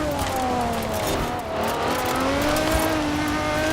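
A Quartz Regalia Type-D tuned for rally and AWD drifting in Forza Horizon 4 revs hard and steady in third gear, its engine note rising and falling loud and close with a faint hint of tire squeal and no voices.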